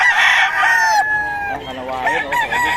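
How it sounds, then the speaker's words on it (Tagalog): Gamecocks crow loudly and repeatedly, overlapping calls layered over constant clucking and background chatter at a busy fowl market in Bocaue. "Talagang ready to go na ang mga manok ni Boss Russell"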